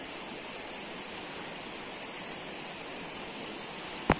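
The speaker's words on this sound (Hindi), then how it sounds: "वो देखिए ऊपर से जो झरना बहकर आ रहा है।" A waterfall in Dalhousie during the monsoon pours down as a steady, dense hiss of rushing water that never lets up, with a single short knock just before the end.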